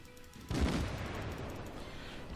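A naval gun salvo fires in the World of Warships video game, a sudden loud boom followed by a sustained rumbling roar that lingers through the rest of the moment.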